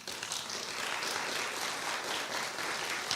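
Steady applause from a town hall audience in High Point fills the room without a break, a dense wash of many hands clapping at close range.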